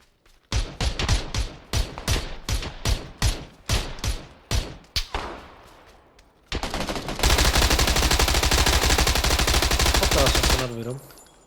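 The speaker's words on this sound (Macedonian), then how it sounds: "Од лево некој ме пука." Video game gunfire in PUBG: a rapid series of loud, sharp single shots, then a sustained burst of automatic fire lasting several seconds, close and dominant, with voices briefly heard.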